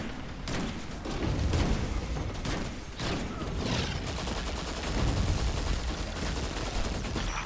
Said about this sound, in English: What explosions!